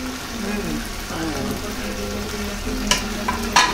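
Finely chopped fenugreek leaves fry in a home kitchen pan with a soft crackling sizzle and stirring, with a couple of sharper clinks of a utensil near the end.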